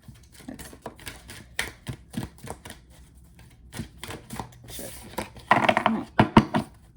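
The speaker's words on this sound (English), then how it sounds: "I feel like shuffling is like the most awkward part of any reading." Tarot cards being shuffled during a reading, a run of soft papery riffles and taps that grows louder and more clustered toward the end, heard alone without talk.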